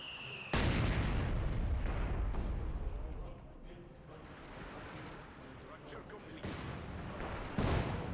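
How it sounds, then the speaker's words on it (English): Artillery barrage in Company of Heroes 2 aimed at a demolition charge: heavy booming impacts start abruptly and roll on as a sustained rumbling wash, with further blasts punctuating it, while someone talks over the battle. "He's barraging the demolition charge."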